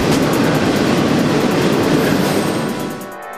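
A train rolls through a disused station stop in Baltimore without stopping, a loud, close, continuous rumble and rattle of wheels and cars that eases off in the final moments.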